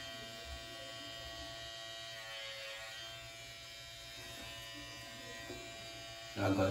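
Electric hair clippers cutting a hairline for 360 waves give a faint, steady buzz throughout, rising in level near the end with a closer, harsher burst.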